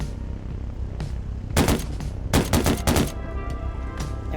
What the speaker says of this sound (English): Shoot this bowl so I know you have the shooting part down